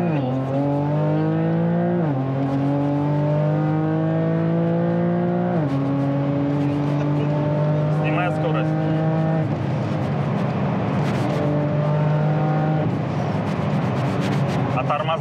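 A Porsche 911 Turbo S in Sport Plus mode accelerates hard from inside the cabin, its engine note climbing steadily through several gear changes, each shift marked by a brief dip before the rising whine resumes, loud and sustained.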